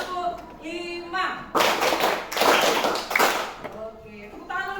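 A group of participants clap together in a counted classroom clapping routine, dense bursts of claps in rhythmic groups, with chanting voices at the start and end.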